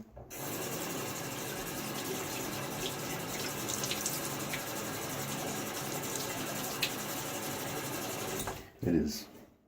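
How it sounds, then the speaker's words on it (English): Running tap water pours steadily into a sink while shaving lather is prepared late at night, a continuous rushing wash that cuts off abruptly near the end, followed by a brief clatter. "need to add some more water"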